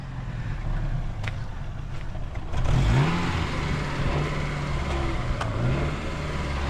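A roughly 30-year-old Japanese off-road vehicle runs after starting up following three years of standing idle. The engine gives a steady low rumble that grows louder partway through and keeps idling to the end.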